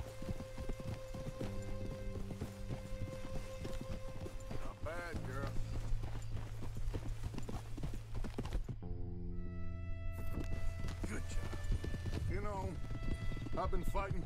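Hooves of a snow horse clip-clopping in Red Dead Redemption 2, steady riding rhythm beneath game music and spoken dialogue, with a brief dropout midway.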